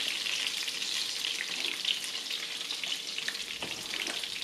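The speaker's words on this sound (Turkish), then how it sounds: "hazırlamış olduğumuz soslu tavukları alıp arkalı önlü güzelce kızartalım." Steady, close sizzling and crackling of sauced chicken pieces frying in hot oil in a pan, a constant hiss with small pops throughout.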